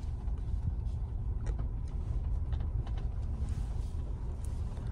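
A Mahindra Scorpio-N SUV drives in 4WD low range, a steady low engine and road rumble inside the cabin with faint mechanical ticks and rattles over uneven ground.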